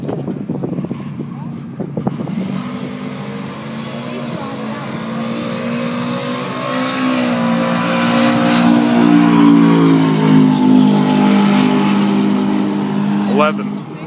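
A little red drag car launches down the track at the Mopar Nationals, Englishtown raceway, its engine note rising and swelling louder over several seconds before fading, with people talking nearby.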